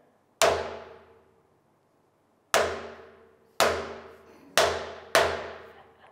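A hammer strikes metal crushed in a hydraulic press five times at uneven intervals, each sharp clang ringing briefly before fading. The hits are close and there is no talking.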